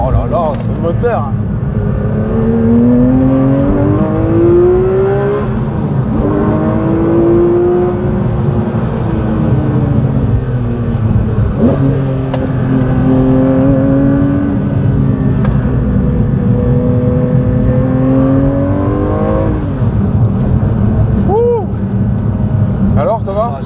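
Porsche 911 S/T flat-six engine while driving on an uneven road, a loud, close, continuous drone whose pitch rises and falls with revs and gear changes, with voices talking over it throughout.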